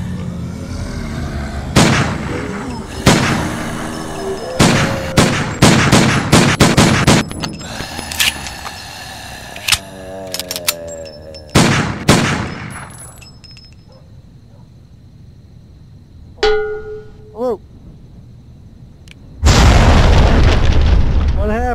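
Booming blasts from a grenade in a virtual reality shooter game, a dense run of loud, sharp detonations and gunfire-like bursts over the first dozen seconds, then quieter gaps before another heavy roar near the end.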